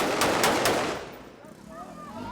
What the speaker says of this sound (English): with a lot of guns and a lot of gunfire